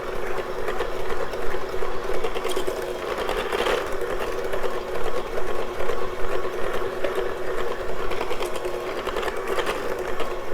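Peanut butter cookie mixture is mixed with an electric mixer, giving a continuous, steady whirring hum with slight fluctuations throughout.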